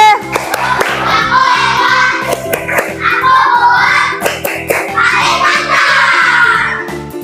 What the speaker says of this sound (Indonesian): Coba tepuk kelas 4B.